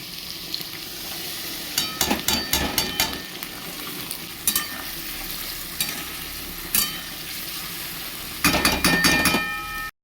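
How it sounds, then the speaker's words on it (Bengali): Potato pieces frying in a pan with white and black mustard and poppy seed paste, a steady close sizzle broken by repeated clattering strokes of a spatula stirring against the pan, with no talking. "আলুটা পোস্ত সর্ষের সঙ্গে আরও দু তিন মিনিট ভেজে নিয়েছি"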